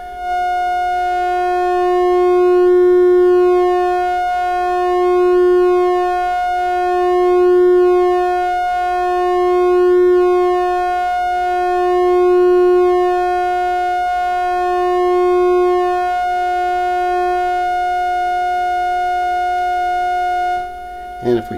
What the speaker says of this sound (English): It's a rectified sine wave.